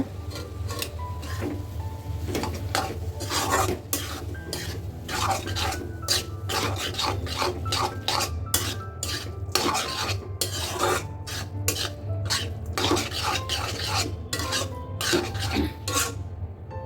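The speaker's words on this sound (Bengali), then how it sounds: "এখন হচ্ছে ভালোভাবে মিক্স করে নেব।" A utensil stirs and mixes Thai noodles in a pan, making a continuous close scraping and rubbing with frequent sharp clicks against the metal, steady throughout.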